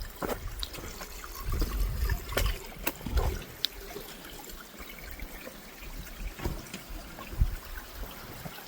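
Footsteps slosh and splash through water on a wet morning hiking trail on the way to Sabbath Day Pond, with irregular close trickling and dribbling sounds and scattered sharper steps, and no talking.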